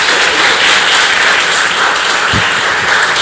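Church congregation at a worship service applauding together: a steady, dense wash of clapping from many hands, filling the room evenly for a few seconds without pause, with no voices rising above it.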